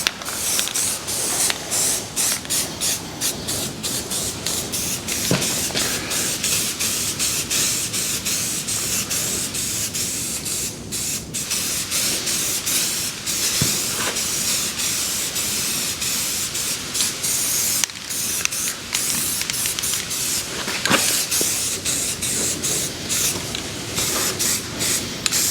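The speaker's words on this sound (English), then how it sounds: "we'll put a coat of self-etch and primer on it to start with" Steady hiss of a spray gun laying down a coat of self-etch primer, continuous and fairly loud for the whole stretch, with brief pauses and faint mechanical clicks between passes.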